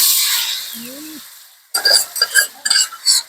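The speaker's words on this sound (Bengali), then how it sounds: "হালকাভাবে নেড়ে চেড়ে ওটাকে একটু শুকনো করে ভেজে নেবো" Mashed carrot for carrot halwa is added to a pan and stirred, starting with a faint hiss and soft swirl, then a series of loud scraping and clinking utensil strokes against the pan, close and uneven.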